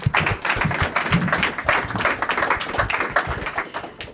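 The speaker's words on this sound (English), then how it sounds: "Let's have another round of applause." A conference audience at the Transparency.dev Summit claps steadily, a dense patter of many hands at moderate distance that carries on without a break.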